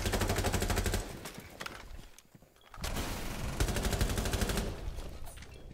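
Rapid automatic gunfire in the video game Rainbow Six Siege comes in two dense bursts, one at the start and a longer one after a short quiet gap. It is loud and close, with no talking.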